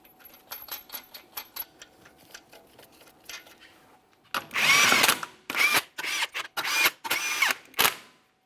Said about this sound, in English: we're torquing these to that 80 foot-pounds in a crisscross manner